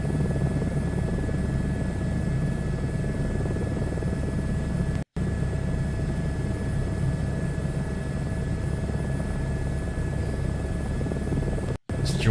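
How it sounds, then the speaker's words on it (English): A helicopter flies in Microsoft Flight Simulator 2024, its steady, close rotor and engine drone running continuously with a faint tonal whine and two very brief dropouts. "This joystick makes flying this helicopter so much easier"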